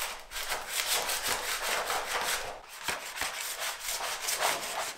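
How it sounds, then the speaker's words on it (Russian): A putty knife scrapes old glue off the roof panels of a GAZelle Next refrigerated van, making steady repeated rasping strokes, loud and close, with no talking. "Берем шпатель и удаляем старый клей."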